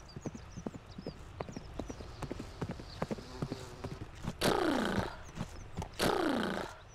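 Rhythmic video-game horse hoofbeats clip-clop steadily at a walking pace, joined by two loud horse whinnies that descend in pitch.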